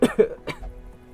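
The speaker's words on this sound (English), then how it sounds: "You hear the cough?" A few quick, close coughs come in a short burst, fading into quiet room tone, with a game playing in the background.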